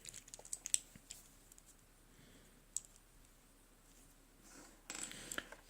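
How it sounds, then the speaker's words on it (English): Screws are backed out of the brake pads by the spur gear on a Traxxas RC vehicle, giving a few faint, scattered clicks and small metallic ticks spread across a quiet room. "What you want to do is remove those 3 screws."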